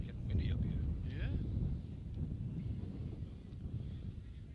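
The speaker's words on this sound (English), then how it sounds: "Oh, getting windy up here." Wind buffets a microphone high up outdoors, producing a steady low roaring rumble that lasts throughout, loudest at the start and easing slightly later.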